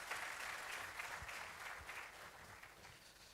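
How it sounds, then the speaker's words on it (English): An audience at an ambassadors conference gives a sustained round of applause, dense even clapping from a crowd heard at moderate distance throughout. "Another round of applause for our Foreign Service."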